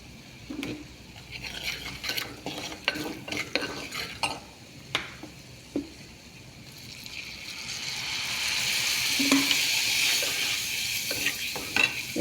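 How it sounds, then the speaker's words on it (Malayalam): Vinegar is poured into a hot pan of fried ingredients for a bitter gourd pickle, then stirred with a utensil: scattered scrapes and clinks at first, giving way to a loud, steady sizzle that swells and holds near the end. "നമുക്ക് ചൊറുക്ക ഒഴിക്കാം."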